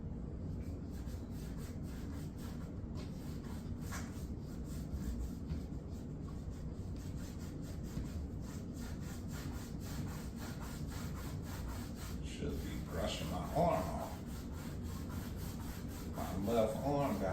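Eraser shavings brushed off a drawing while underpainting a howling moon piece, a continuous close rubbing and scratching sweep with steady texture and a few brighter scrapes near the end.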